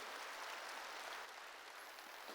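A church congregation claps together in a steady, dense wash of applause that fills the room evenly from start to finish, with no voices rising above it.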